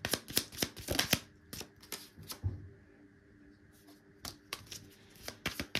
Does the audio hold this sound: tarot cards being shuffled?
yes